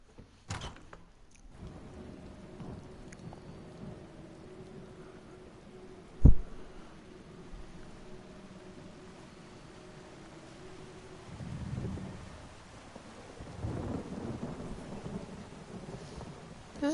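A thunderstorm in Elder Scrolls Online brings one sharp, loud thunder crack early on over a steady wash of rain and wind, and low rumbles swell again near the end. Nobody speaks.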